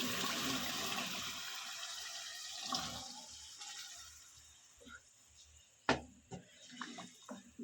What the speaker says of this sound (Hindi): अब इसमें हम डालेंगे चने।